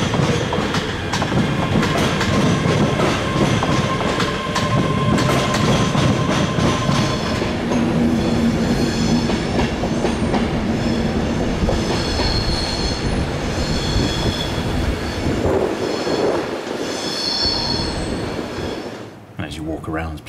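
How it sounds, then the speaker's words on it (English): A passing train rumbles and clatters near Waverley station in Scotland, loud and sustained throughout with wheel squeal and rhythmic clacking, fading slightly near the end. "occasionally just be interrupted by the noise of a passing train"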